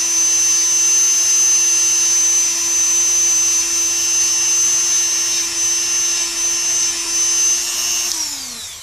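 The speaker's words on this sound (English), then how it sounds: "You can use the same sanding wheel here for that." A power sanding wheel smooths wooden edges with a steady, loud motor whine and grinding hiss that runs for about eight seconds, then spins down as it is switched off.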